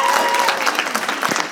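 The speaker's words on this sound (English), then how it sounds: "Can we have a round of applause for the..." Convention audience at a Q&A applauds a fan's costume, dense clapping from a crowd sustained throughout, with a bit of voice mixed in.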